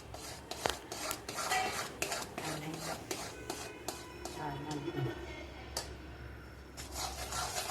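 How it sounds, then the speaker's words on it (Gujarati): A mohanthal mixture with added mawa is stirred in a pan, giving steady rubbing and scraping of a spoon against the metal. Several sharp clinks sit among continuous soft scraping, and faint talk runs underneath. "હવે પછી એમાં થોડો માવો ઉમેરીશું અને બધું હલાવી નાખીશું"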